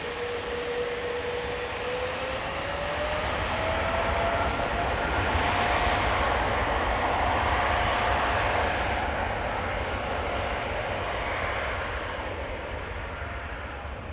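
A Cathay Pacific Airbus A350-1000 departs Amsterdam Schiphol with a sustained jet roar that swells and then slowly eases over about fourteen seconds, with a steady engine whine rising in pitch beneath it.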